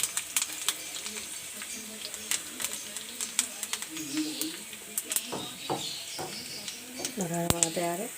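Cumin seeds and curry leaves hit hot oil with whole chillies and light-brown onions for kadhi pakora, giving a steady crackling sizzle with sharp pops and brief tonal, voice-like sounds near the end.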